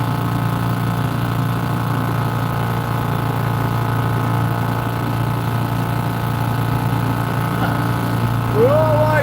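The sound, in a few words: 1970s Seagull 40 Plus clutch outboard motor running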